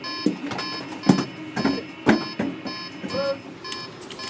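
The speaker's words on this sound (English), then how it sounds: "When the alarm sounds, the crew hurries into action, swiftly responding to the simulated emergency." An alarm sounds for a fire drill aboard a US nuclear submarine: repeated electronic beeping tones in a rhythmic pattern, mid-level, with thuds and movement of the crew around it.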